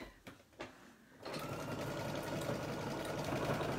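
A sewing machine runs a heavy applique stitch at setting 3.04, starting after a few faint clicks and then running steadily and loudly in a dense mechanical whir.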